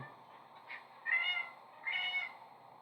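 Several house cats meow in short, loud bursts, two or three drawn-out calls close by with quiet gaps between them and no talking.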